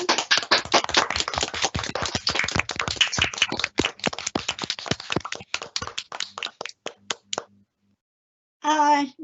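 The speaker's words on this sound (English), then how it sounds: "time for applause for Nicki Hadjipanteli" Applause for an award winner at a conference closing session, close, crisp hand clapping from a smallish group that thins out to a few last claps before silence, then a voice starts speaking.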